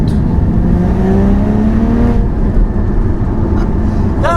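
Porsche Cayman 981 GT4 engine revving loudly and close, pitch climbing steadily for about two seconds before dropping back to a rumbling idle, with a brief higher whine near the end.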